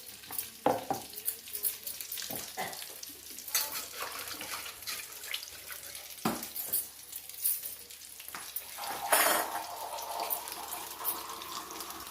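Potato bondas fry in hot oil with a steady close crackle and sizzle, broken by repeated clinks and scrapes of a ladle turning them, and a brief surge of bubbling toward the end; no one speaks.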